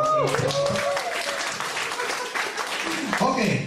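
An audience at a Forever Living product knowledge talk claps in a steady wash of applause, loud and close, with voices talking and calling out over it throughout.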